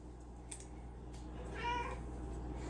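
A cat meows once, faint and brief, over a quiet indoor background hum with a couple of small clicks beforehand.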